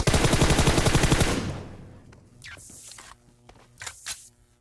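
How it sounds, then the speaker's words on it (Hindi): Rapid automatic gunfire from PUBG Mobile rattles loudly for about a second, then gives way to scattered footsteps and a few sharp, fainter shots and game effects. "गोलियों की आवाज सुन के आप भी समझ गए होंगे"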